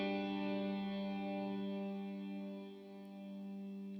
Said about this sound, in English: You can hear that long pad reverb sitting below as I play.